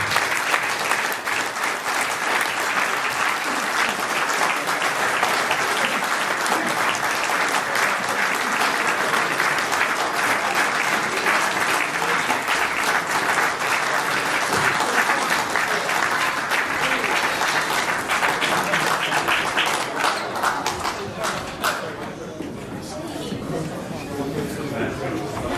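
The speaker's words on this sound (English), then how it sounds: "Please give them a big round of applause." Fans give a long, loud round of applause as a football cup is presented, dense continuous clapping from a big crowd with some chatter mixed in, easing slightly toward the end.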